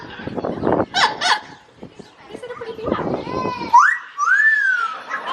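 Amazon parrot at a zoo in Ontario, Canada, calling with chuckling sounds and rising whistled squawks near the end, mixed with human speech nearby.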